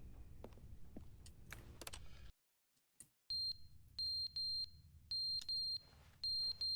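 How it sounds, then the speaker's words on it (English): Smoke alarm in The Stanley Parable: Ultra Deluxe, a loud, sharp high-pitched electronic chirp repeating in short clusters of two or three beeps with brief gaps, after a stretch of background clatter and near silence. "it's just a smoke alarm."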